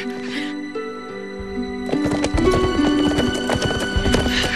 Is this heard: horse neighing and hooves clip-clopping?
yes